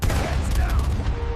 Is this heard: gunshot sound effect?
yes